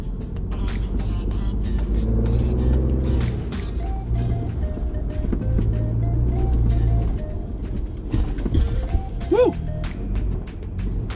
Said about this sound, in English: Work this motor. Got tons of torque, tons of fun.